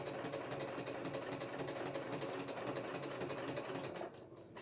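Sewing machine fitted with a walking foot stitching through a quilted placemat, a continuous close mechanical hum and rapid needle clatter that drops in level near the end.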